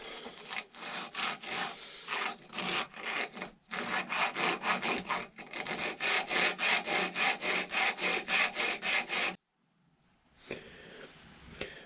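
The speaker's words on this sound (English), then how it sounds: "I'm going to continue to flatten it out using a rasp" A big rasp files a cow horn clamped in a vise, with rapid, even, loud rasping strokes for about nine seconds before it stops and a faint scrape follows.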